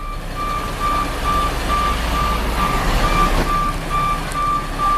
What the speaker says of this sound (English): The truck's moving forward now.